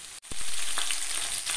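Taro stolons (kochur loti) sizzle steadily in a pan, a continuous bright frying hiss with a few soft stirring knocks near the start, close and fairly loud, with no voices.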